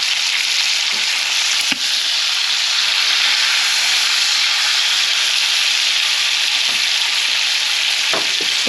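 An ex-dairy cow steak sizzles loudly in a hot pan while being basted, a dense, steady frying hiss broken by a few spoon clinks and taps.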